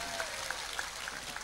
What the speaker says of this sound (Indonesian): Tepuk tangan untuk Mas Charlie.